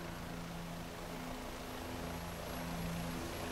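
A Bell 407 helicopter in X-Plane comes in to land, its engine and rotor giving a steady, droning hum with a low tonal whine, constant in level throughout and alone without voices.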